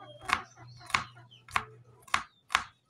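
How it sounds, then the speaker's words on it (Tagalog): Onion being sliced finely with a knife on a board for a shrimp and eggplant omelette, five crisp evenly spaced chops close up, with a faint steady hum underneath. "So kailangan maliit yung pag-slice ng sibuyas guys."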